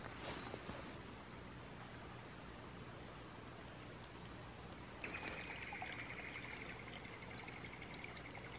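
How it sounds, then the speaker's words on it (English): Crystal-clear creek water trickling on a river bend, a steady, close wash of flowing water that runs unbroken from start to finish, with no one talking. "Look, and there's water trickling everywhere."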